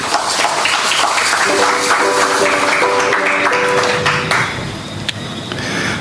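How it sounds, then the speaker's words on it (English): A book launch audience applauds poet John Robert Lee for his collection IKONS New and Selected Poems, a dense, loud, steady wash of clapping running the whole stretch, with a faint tonal ringing threaded through the middle. "let us give Brother Robert Lee a round of applause for his work"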